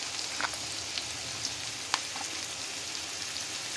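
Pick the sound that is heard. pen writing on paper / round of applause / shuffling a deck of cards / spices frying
spices frying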